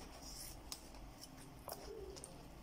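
Scissors trim sandal-making material in a few quiet crisp snips at an uneven pace, close but faint over a low background hum.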